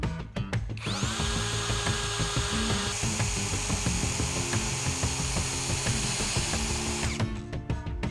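A Parkside 12 V cordless drill-driver in second speed bores into plexiglas with a loud, sustained high-pitched whine lasting several seconds, the motor starting and stopping briefly at each end, close by.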